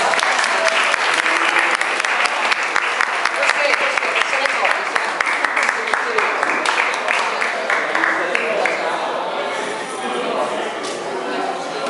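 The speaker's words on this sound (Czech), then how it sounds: "tak to zatleskáme" Loud, steady clapping from a gathered group at a triathlon training results ceremony, a dense patter of many hands that holds for the whole stretch and eases slightly toward the end.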